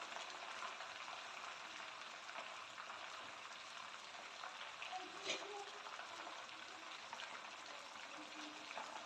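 Chicken pieces frying in hot oil for a chargha, a steady soft crackle and hiss with small bubbling pops throughout, fairly quiet and close.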